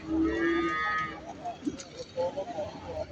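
A cow at the livestock market in Barda gives a drawn-out low moo up close, followed by market bustle as people talk nearby.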